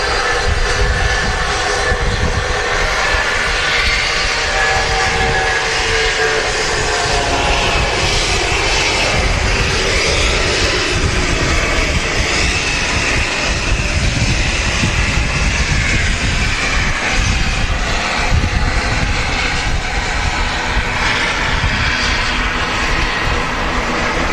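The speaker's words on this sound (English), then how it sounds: "There goes the Jet2 757 Golf Lima Sierra Alpha Bravo LSAB, and an Iceland Air touching down in the new scheme" Jet engines of a Jet2 Boeing 757 and an Icelandair airliner touching down at Manchester Airport, a loud continuous roar and rumble that holds steady throughout with no talk over it.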